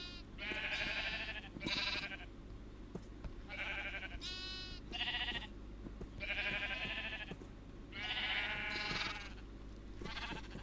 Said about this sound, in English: I'm so mad at that sheep